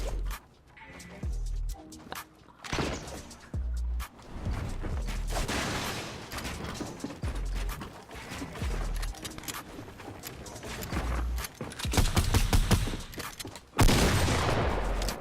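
Repeated loud shotgun blasts and clattering weapon-handling sounds from Fortnite gameplay come in uneven bursts, separated by brief quieter gaps.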